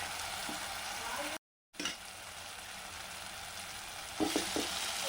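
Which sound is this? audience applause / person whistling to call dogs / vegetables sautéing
vegetables sautéing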